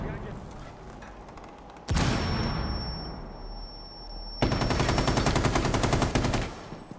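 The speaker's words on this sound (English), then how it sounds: "Bullet from an LMG." Light machine gun fire in a first-person shooter game, with a couple of heavy rapid bursts of rattling automatic shots, loud and close, separated by a quieter stretch with faint talk.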